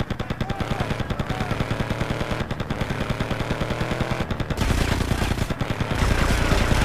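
Gunfire in the video game Grand Theft Auto: Vice City Stories rattles as loud, continuous rapid automatic bursts that fill the scene, with the tempo shifting and the volume rising near the end.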